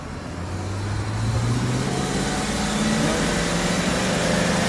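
A 2001 Zinc Yellow Mustang GT racing a Porsche Boxster: a steady, loud engine drone with rising pitch as the car accelerates, under constant road and wind roar.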